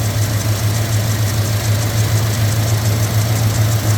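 A 1988 Jeep Grand Wagoneer engine idles steadily, a constant low rumble with an even throb and no revving over four seconds.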